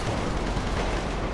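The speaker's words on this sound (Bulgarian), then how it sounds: "Какво ме стреляш, бе, пич?" Dense, continuous gunfire and blasts from a GTA video game farm raid, loud and unbroken throughout, with no talk over it.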